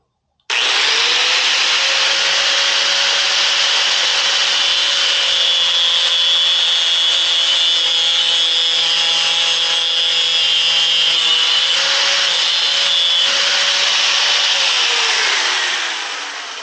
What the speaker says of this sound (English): when in doubt, use the cutoff wheel. I'm going to cut through this